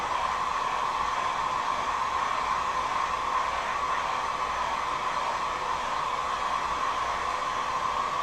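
A heat gun blows hot air steadily onto a window balance to soften it, a constant close whooshing drone with a faint whine that never changes over the whole stretch.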